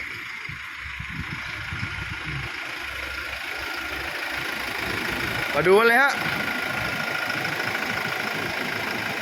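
A Toyota Innova engine idles with a steady low rumble throughout, while a person talks over it and a brief whirring sweep cuts in midway.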